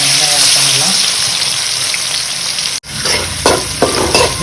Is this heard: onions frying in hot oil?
yes